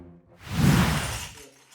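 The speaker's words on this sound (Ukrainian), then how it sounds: "Пані Ніна прибирає скло у приміщенні дитячого садка" Shards of glass from windows blown out by a blast wave being swept up inside a kindergarten: one loud, crunching, shattering burst lasting about a second, close by, with no talk.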